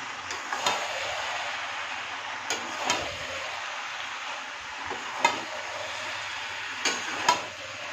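Malabar spinach stems and spices are sautéed and stirred in a pan, with a steady soft sizzle broken by several sharp clicks and scrapes of the spatula against the vessel.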